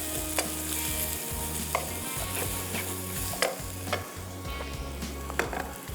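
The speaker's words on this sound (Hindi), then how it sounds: "और ये अखरोट और खोपरा, तमाम चीज़ें डाल के आपने हल्का सा फ्राई कर लेना है।" Walnuts and coconut fry lightly in a pan for sheer, a moderate steady sizzle with occasional sharp scrapes and taps of a stirring spoon against the metal.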